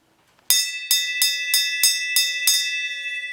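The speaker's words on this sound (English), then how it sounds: "you could come over and ring the bell there, pal" A bell rings seven times in a steady rhythm, each bright metallic strike ringing out with a sustained shimmering tone, close and clear.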